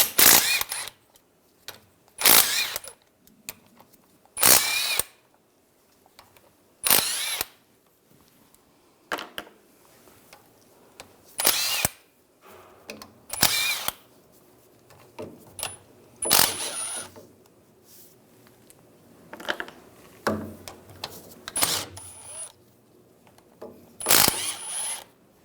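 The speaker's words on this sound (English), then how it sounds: "We're going to take these cover bolts out. I'm going to use a 13mm socket." A 13mm socket on a ratchet works the cover bolts free on a 2011-2018 Ram 1500, giving spaced bursts of sharp metallic ratcheting clicks with quiet gaps between them, up close and with no talking.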